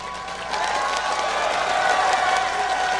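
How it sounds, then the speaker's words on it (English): A crowd at the 2012 League of Legends World Championship esports match claps and cheers, rising into steady, loud applause across the whole stretch. "Give them a cheer."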